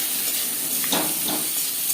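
Raw mango pieces frying in a pan with salt and turmeric give a steady, close sizzle and hiss throughout, with a brief stirring scrape in the middle.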